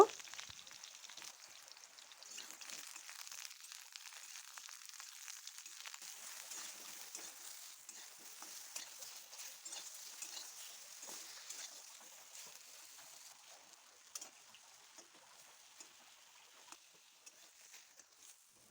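Brinjal (eggplant) pieces fry in hot oil in a wok, giving a faint, steady crackling sizzle with scattered soft pops throughout.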